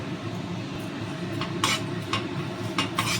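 Whole coriander, cumin, fennel, cardamom and mace dry roasting in a pan, with a low steady background noise and a few light metallic scrapes and clinks from stirring, close by.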